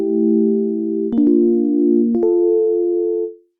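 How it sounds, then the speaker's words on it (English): Electric piano from a DX7 FM Classics patch plays sustained chords, with a bright new chord struck around one second and another near two seconds, ringing clearly alone before fading out at the end. "And for this, I'm using a DX7 patch from FM Classics."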